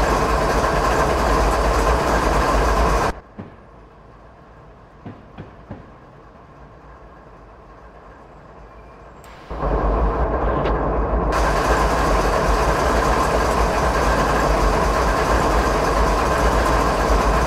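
A locomotive in Train Simulator 2015 rumbles steadily with a broad, loud engine drone. It drops to a quieter idle with a few faint clicks midway, then the full running roar returns.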